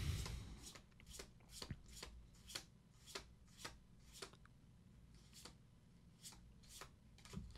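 Flesh and Blood trading cards from the Rosetta set, handled while a box is opened: about a dozen crisp, evenly spaced snaps as cards are flicked through one by one, close and fairly quiet with no talking.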